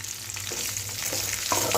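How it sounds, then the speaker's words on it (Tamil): Ridge gourd sautéing in a pan for chutney, a steady soft sizzle with scattered stirring scrapes and clinks close by, no talking. "பீர்க்கங்காய் ஆட் பண்ணிவிட்டு பீர்க்கங்காய் வந்து ஒரு ஒரு நிமிஷத்துக்கு வதக்கி விடுவோம்"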